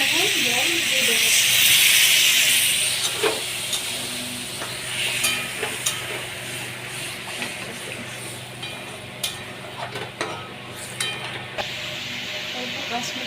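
Water poured onto hot mustard paste and fried spices in a pan, bursting into a loud close hiss that settles into a gentler sizzle with scattered stirring clinks.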